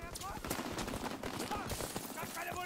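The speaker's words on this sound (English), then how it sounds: "Am I just running across gunfire?" Online match of Call of Duty WWII with bursts of rapid gunfire and scattered shots crackling close by, mixed with game noise and a player talking.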